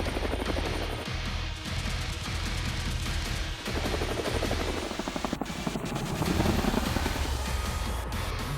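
Indian military helicopter with a rapid, steady rotor chop, fairly loud and continuous, with a few sharp cracks overlaid toward the end.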